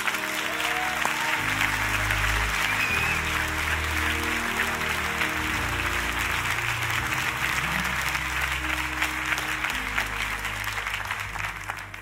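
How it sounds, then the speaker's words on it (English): Church congregation clapping their hands in praise, a steady wash of sustained applause from a large crowd filling the room, loud and continuous throughout with no speech over it. "give God a hand clap of praise"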